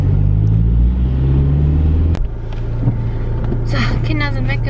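Car driving, a low engine rumble and road noise from inside the cabin, loud and steady at first and then easing off, with a person talking over it near the end.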